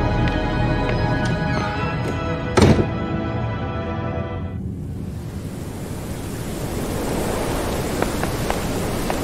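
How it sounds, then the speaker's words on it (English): Steady heavy video-game rain in the horror game Detention hisses throughout, with a brief thump early on as a tonal hum fades out, leaving dense, even downpour. "Wow, it's raining pretty hard already."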